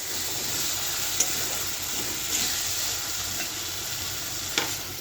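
Spiced oil sizzles steadily in a pan while egg curry cooks, a loud continuous frying hiss with a few soft clinks of stirring, no talking.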